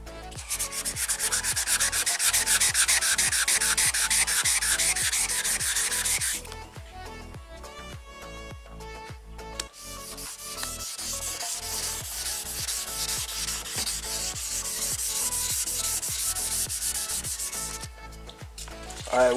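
Overspray on a car door jamb is sanded by hand during home paint prep on a Box Chevy Caprice, a steady rhythmic rubbing and scraping in quick repeated strokes, close and continuous with a brief pause midway.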